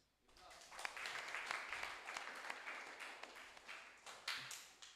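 A room full of people claps in steady applause for several seconds, moderately distant, with no talking over it.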